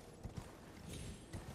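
Hoofbeats from a horse galloping in the video game Elden Ring, a steady rapid clip-clop over a dense, rumbling game soundscape.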